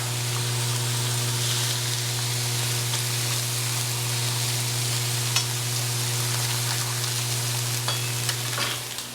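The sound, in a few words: gyro meat of lamb and beef sizzling on electric flat griddle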